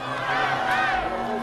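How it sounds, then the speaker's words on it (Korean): A crowd of supporters booing at a memorial ceremony makes a brief, loud, massed roar of voices that holds steady throughout. "일부 지지자들은 야유를 보내기도 했습니다"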